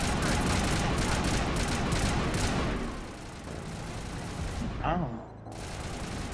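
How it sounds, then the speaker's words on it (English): Heavy gunfire crossfire from a Mass Effect firefight rattles loudly for about three seconds, then fades to scattered distant shots and an ambient rumble, with a short vocal exclamation near the end. "Runaway is under coordinated crossfire."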